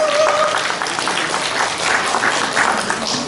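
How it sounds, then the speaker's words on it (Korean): An audience at a charity briquette-sharing event applauds to welcome a youth dance community's performance, a steady, dense wash of many hands clapping close by that fills the whole stretch, briefly overlapping a voice at the start. "박수 부탁드리겠습니다."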